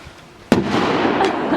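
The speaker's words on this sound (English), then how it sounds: "Fireworks!" Fireworks going off, a single sharp loud bang followed by a crackling burst that fades over a second or so, with faint sounds before the blast.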